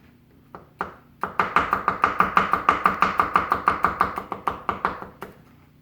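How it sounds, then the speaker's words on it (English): Vegetables sliced thinly with a knife on a cutting board for a pasta jardiniere, a few tentative taps and then a fast, even run of about twenty crisp chops, close and clear with no talk. "I'm going to slice them. I'm going to try to get them as thin as I could."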